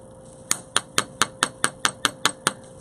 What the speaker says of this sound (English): Let's hammer this down.